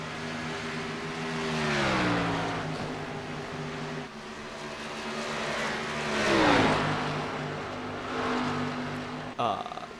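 Race cars in an Integrity Racing League round at Texas roar along the track, engines rising and falling in pitch as they pass, loud and continuous with a voice talking over them.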